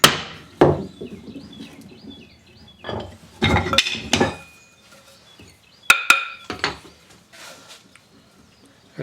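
Chisel and mallet chopping a mortise in wood for a Queen Anne side table: sharp, close strikes in uneven clusters with ringing metallic clinks and short pauses.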